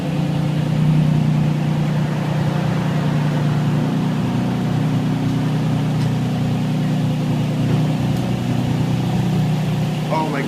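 A Nissan 350Z with a known misfire idles while warming up, a steady, even low engine drone holding close and constant throughout with no talk.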